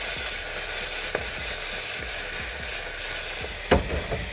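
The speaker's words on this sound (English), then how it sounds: "Listen to that sizzle. That's the sound you want to hear" Vegetables for a keto stir fry sizzling steadily in oil in a hot frying pan, a continuous close crackle with a few brief clinks or stirring knocks near the end.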